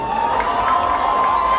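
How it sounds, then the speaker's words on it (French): A concert audience cheers and applauds for a guitarist being introduced on stage, a steady roar of crowd noise and clapping throughout the short moment, with no talk over it. "Applaudissez-le s'il vous plaît."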